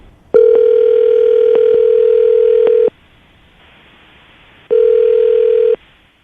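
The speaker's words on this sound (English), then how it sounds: "we're going to give her a call right now, see if we can get her on the phone" Telephone dial tone on an outgoing call, a loud steady electronic tone holding for over two seconds, cutting off, then sounding again for about a second.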